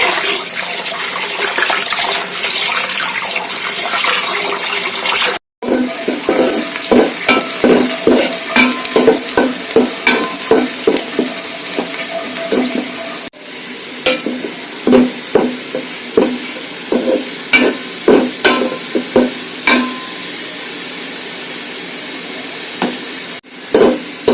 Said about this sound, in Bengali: এখন আমি দুই পট পোলার চাল দুই দিচ্ছি